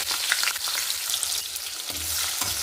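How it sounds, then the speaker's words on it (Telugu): Onion and green chilli pieces fry in hot oil, a dense close crackling sizzle that swells and thuds briefly as the pan is stirred, with no talking. "నూనె వేడైపోయిన తర్వాత ఉల్లిపాయ పచ్చిమిరపకాయ ముక్కలు యాడ్ చేసుకున్నాం"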